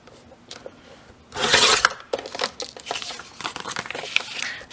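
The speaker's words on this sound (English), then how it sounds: "So we want to cut all the envelopes like that, 1/8 of an inch off," A stack of paper envelopes is trimmed by 1/8 inch at top and bottom: a loud rasping slice lasts under a second, followed by scattered crinkling and rubbing of paper.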